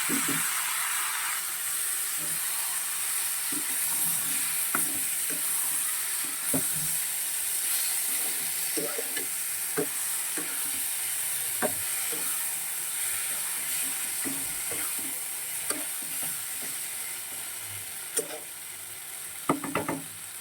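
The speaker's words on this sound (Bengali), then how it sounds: "এবারে আমি যে লাউটা আগে থেকে করে রেখেছিলাম, এটা বড়িও দিয়েছি, দিয়ে দিলাম।" Prawns fry in a pan as cooked bottle gourd with lentil dumplings is tipped in, giving a steady close sizzle and hiss with scattered clinks and stirring scrapes throughout.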